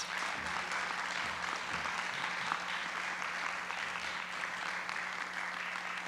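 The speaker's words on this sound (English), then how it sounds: "Let's give these students one more round of applause." Audience applause for students at a school board meeting, a steady wash of many hands clapping that fills the room evenly, with faint low voices murmuring underneath.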